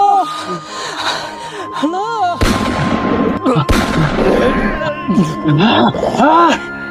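Two sharp, loud gunshots crack out a second or so apart, each with a short rolling decay, amid frantic shouting voices and dramatized commotion in a Tamil audio drama about the bandit Veerappan.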